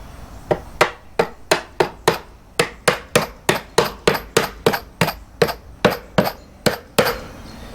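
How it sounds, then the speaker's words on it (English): Steady hammer blows strike the wood of a beekeeping honey super box, about sixteen sharp knocks in an even rhythm, each with a short ringing decay, close and loud with no talking. "Alright, and flip that up so we can hammer it down this way."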